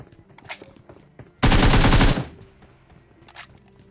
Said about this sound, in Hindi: छत पे काफी ज्यादा फायरिंग वायरिंग भी हो रही थी